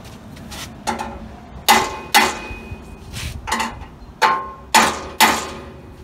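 Sharp metallic hammer strikes on an aluminum fuel tank cradle for a 1936 Chevy coupe, about eight blows at an uneven pace, close and ringing, with quiet background between hits.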